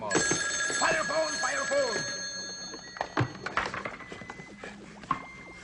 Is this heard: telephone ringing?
yes